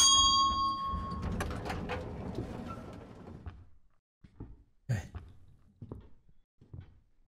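A doorbell rings in the horror video game Suite 776, a bright ding with a lingering tone at the start, followed by clanging, sliding door sounds and scattered softer knocks as the sound thins out.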